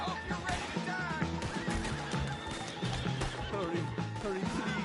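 A horse in Red Dead Redemption 2 gives a few short whinnies and snorts. They come over dense, continuous game sound, with gunfire-like crashes and steady music, while voices talk throughout.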